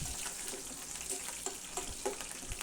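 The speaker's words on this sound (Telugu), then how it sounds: "మనం ఇందులోనే పచ్చిమిర్చి కరివేపాకు కూడా వేసేసుకొని వేయించేసుకుందాం" Green chillies and curry leaves fry in oil with a soft continuous sizzle and faint popping crackles, fairly quiet and unbroken by speech.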